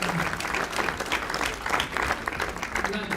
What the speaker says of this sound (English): Let's applause, please.